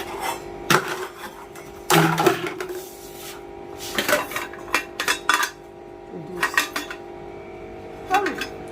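Metal puttu maker vessels and lids knocked and set down in a few sharp clattering bursts, close by, with pauses of quiet between handlings.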